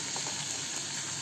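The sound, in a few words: cabbage and capsicum sautéing in a pan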